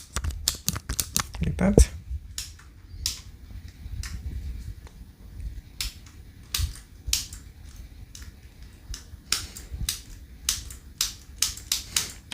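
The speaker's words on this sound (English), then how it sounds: "This is the button right here. So when you press it, click" A Clipsal Saturn series push-button wall switch mechanism is pressed repeatedly, giving a run of sharp, close, dry clicks spaced irregularly, with a person speaking briefly between presses.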